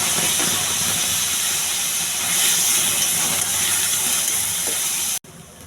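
Boiled green peas hit a hot tempering in the pan, setting off a loud, continuous sizzle and hiss that swells slightly midway and then cuts off abruptly just before the end, with no voices.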